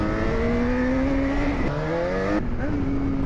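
Jaguar XJ6 engine revving steadily in a driving video game, a loud continuous tone with pitch shifts and dips as the car accelerates and shifts, close and alone with no talk over it.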